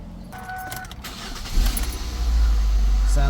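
A 2007 Ford Focus, just after an oil change, is cranked and starts, settling into a steady close idle; keys jingle and a person talks briefly before the engine catches.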